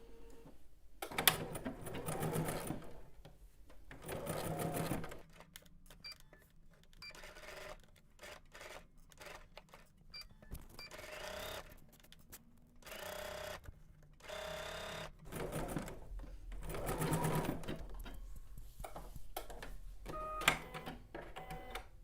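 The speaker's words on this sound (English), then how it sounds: "Now we're going to base stitch the yokes together, and we're going to match our notches." Sewing machine basting garment yokes together, running in several bursts of rapid stitching separated by pauses, close and moderately loud.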